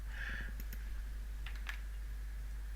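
Keyboard clicks land in short bursts as shortcuts are pressed on a computer keyboard, a few quick taps near the start and another cluster midway, faint against a steady low hum.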